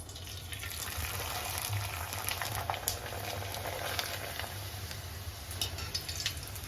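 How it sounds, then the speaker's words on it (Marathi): Kurdai papad frying in hot oil in a kadhai on a gas stove, a steady, dense bubbling sizzle that holds at an even level throughout with no talking. "आपण कुरडे पापड तळून घेऊ"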